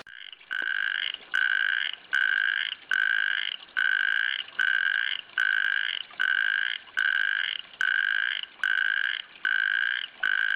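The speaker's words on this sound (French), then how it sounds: "Je crois que c'est des crapauds." Toads croak at night in a steady series of about a dozen loud, buzzy trills, each lasting most of a second with short gaps between, close by and with no talk.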